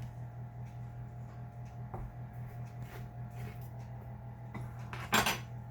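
Scattered soft kitchen clatter as hands pick through pulp and seeds on a tray or in a bowl, with faint light taps and one louder brief rustle near the end.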